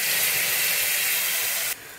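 Spinach puree hits a hot pan of fried chicken with a loud, steady broadband sizzle and steamy hiss, close and continuous, dropping abruptly in level near the end.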